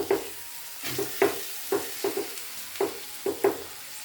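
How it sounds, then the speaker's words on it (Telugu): Chicken curry being stirred in a pan, a run of short scraping strokes at an uneven rhythm with a soft sizzle underneath, close and fairly quiet, no voices. "నీట్గా అయితే కలపాలి మంచిగా, బాగా కలుపుతున్నాలే"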